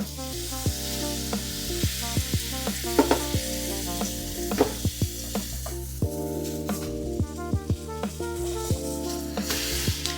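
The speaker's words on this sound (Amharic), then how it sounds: "ቅቤያችንን ደግሞ ኦሬዲ አሁን ሞቅ ብሎልናል እንጨምረዋለን።" Butter sizzles and crackles as it melts in a warmed medium-sized iron pot, a steady close fry broken by scattered stirring clicks, with tonal background sounds running throughout and no talking.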